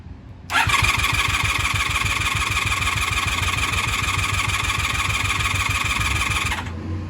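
A 1996 Honda Magna VF750CD motorcycle engine cranks with the choke on, its starter chugging in a fast, even rhythm for about six seconds, loud and close, before it cuts off.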